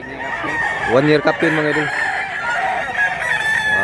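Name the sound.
rooster crowing, red chicken for sale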